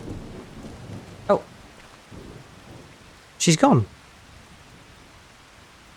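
Steady rain hisses in a farming video game while thunder cracks and rumbles loudly twice; a person talks briefly between the claps.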